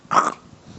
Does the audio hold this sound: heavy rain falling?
no